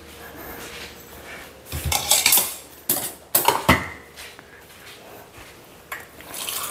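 Pots and dishes clatter during rice cooking in a home kitchen, with a few loud clanks and scrapes in short clusters against a quiet hum, close by, with no voices.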